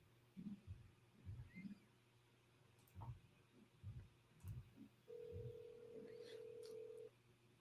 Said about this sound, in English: Let me try to call him from a regular phone.